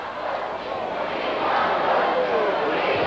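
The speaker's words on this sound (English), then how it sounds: "You can again hear this crowd. We want Putski." A large wrestling arena crowd roars and chants in a continuous, swelling wash of voices that builds toward the middle of the stretch, loud and dense with no single voice standing out.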